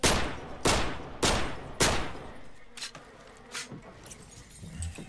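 Pistol fire in Call of Duty Modern Warfare 3: four sharp, evenly spaced shots ring out, followed by a few fainter, more distant pops over a quiet background, with no talking.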